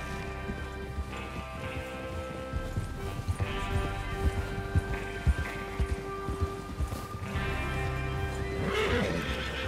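Horses whinny and neigh over steady hoofbeats and a busy background of movement in Red Dead Redemption 2, with a louder gallop swelling near the end.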